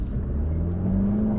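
A BMW G60 530e hybrid's petrol engine starts up after electric running, a steady low rumble and hum with a faint rising whir, close and alone.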